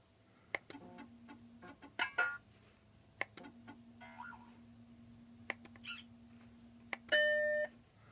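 Macintosh Plus computer sounding a series of short synthesized alert beeps and chimes, spaced irregularly over a low hum, ending with a louder sustained tonal chord; close and clear, no talk.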